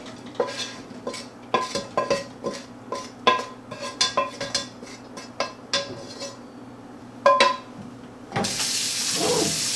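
Clattering of dishes and utensils in a sink, irregular knocks and clinks, followed by a rush of hot tap water running over meat at the end.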